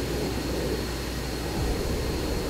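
Helicopters flying in Arma 3 make a steady, dense rotor and engine roar, a broad continuous wash of noise that holds at an even level throughout with no other sounds standing out.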